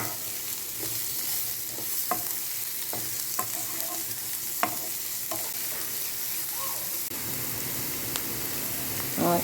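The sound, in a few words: frying chopped garlic and spices in a pan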